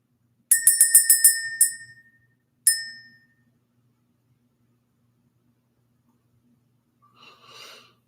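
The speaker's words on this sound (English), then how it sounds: "Let's ring the bell." A small bell is struck in a quick ringing burst of several bright dings, then once more on its own, ringing out in a quiet room to clear the energy. A faint rustle follows.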